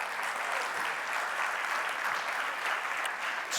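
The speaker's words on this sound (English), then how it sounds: "That should have got some applause." Steady, dense audience applause in a church setting, a continuous wash of many hands clapping at even loudness throughout, with no talking.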